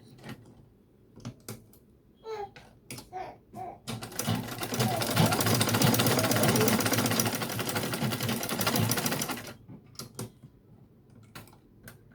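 A sewing machine runs a continuous top stitch on Ankara cargo pants, about five and a half seconds of steady whirring. Scattered clicks and handling noises come before and after the run.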